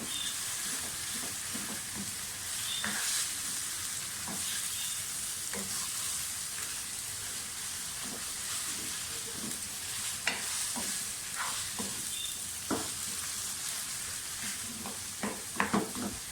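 Chicken keema sizzles and fries in a pan, a constant hiss with scattered spits and pops, plus occasional scrapes and clacks of a spoon stirring the mince.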